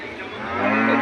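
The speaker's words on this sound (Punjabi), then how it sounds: "ਇੱਕ ਮੱਝ ਤੁਹਾਨੂੰ ਹੋਰ ਦਿਖਾਉਂਦੇ" A water buffalo moos at a busy livestock market, one long, loud, low bellow that swells and holds steady through the whole call.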